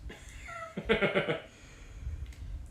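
Several house cats meowing indoors, a cluster of clear overlapping meows in the middle with quieter mews before and after, fairly close.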